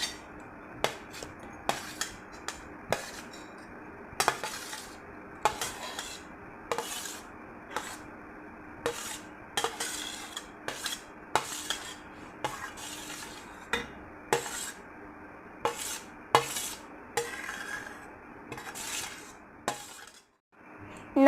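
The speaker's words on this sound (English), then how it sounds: "First of all, we will put all the vegetables in the bowl." Chopped tomato, grated carrot and other vegetables are scooped into a bowl, with repeated sharp clinks and taps of a spoon against the bowl at an uneven pace, close up and without talk.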